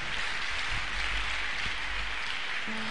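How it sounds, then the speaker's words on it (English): A church congregation gives a clap offering, loud, continuous crowd clapping with a hiss-like, rain-textured density that holds steady from start to finish. "Let's give the Lord a clap offering,"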